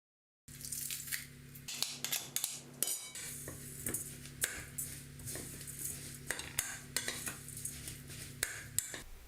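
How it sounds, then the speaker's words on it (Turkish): Oil, crushed garlic and other ingredients for pepper bread dough are stirred in a kneading bowl: close, irregular clinks and scrapes of a utensil against the bowl, with no talking. "Malzemelerin hepsini yoğurma kabının içerisine alıyorum ve karıştırıyorum."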